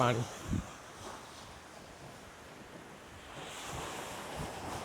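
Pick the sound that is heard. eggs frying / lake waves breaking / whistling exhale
lake waves breaking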